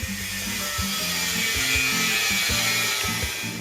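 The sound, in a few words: angle grinder cutting a weld point on a boat hull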